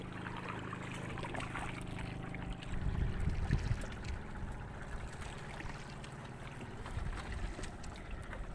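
Small boat paddled across choppy sea off an island, with soft rhythmic water sloshing and splashing against the hull and a low steady rumble throughout, fairly quiet and without talk.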